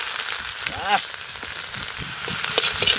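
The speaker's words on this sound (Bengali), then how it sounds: "জিরে, মাছ ভাজা তেলে দিয়ে দাও, রসুন" Cumin seeds and garlic hit hot oil left from frying fish, giving a crackling, popping sizzle that swells toward the end, with a brief voice in the background.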